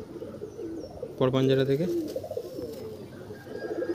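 A male Kaldumа desi pigeon in a loft gives one strong, close coo in the first half, with a person talking before and after it.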